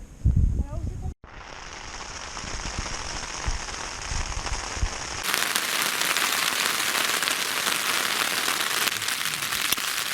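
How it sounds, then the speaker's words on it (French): Rain patters steadily on a tent pitched in the Haut Giffre mountains near Mont Buet, a dense, continuous hiss that briefly cuts out, then grows brighter and louder partway through. "Bon, bah nous voilà dans la tente. Il pleut."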